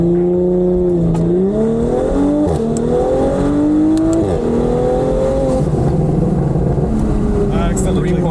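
Tuned Audi S5 accelerating hard on a drag run with two people aboard, engine note loud and close from inside the car, climbing through gears with brief drops at shifts.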